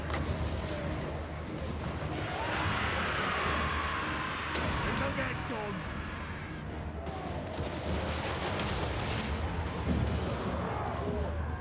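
Mortar artillery barrages in a Total War: Warhammer battle boom and crash as a dense, continuous wash of distant impacts and launches, with a voice talking over the din.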